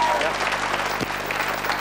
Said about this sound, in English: I love an audience as generous with its applause